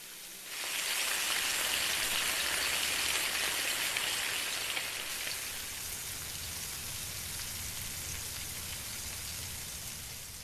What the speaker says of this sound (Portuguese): Acho que são 4 ou 5 planos de chuva